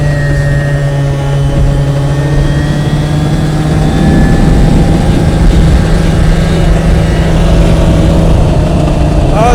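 A modified 50cc scooter engine held at full throttle on a top speed run, a loud, steady buzzing drone with a strong sustained tone that rises slightly in pitch, constant throughout with wind rush.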